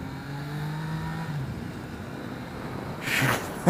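A 2017 Yamaha XSR900 motorcycle in first gear pulls hard for a wheelie, its engine note rising and holding under acceleration, followed by a brief louder rush of wind or exhaust near the end.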